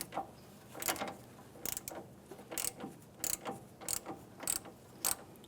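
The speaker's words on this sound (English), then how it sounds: "I'm just going to let that wrench spin and lock against the strut." A wrench ratchets and clicks against an Acura MDX strut during a strut and spring assembly replacement, a series of rhythmic mechanical ratcheting bursts, close and fairly quiet.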